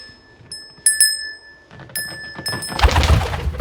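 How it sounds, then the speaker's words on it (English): A small hand bell rings in a few bright, quick jingles spaced apart, followed by soft thumps and handling noise in a quiet room. "Let's see if I can summon him with the bell real quick."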